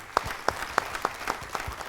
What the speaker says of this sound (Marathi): यासाठी टाळ्या होऊन जाऊ दे